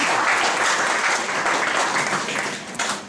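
Audience applause fills a conference hall after a speech, a dense, sustained clapping from many hands that holds steady and then tapers slightly toward the end, with no talking over it.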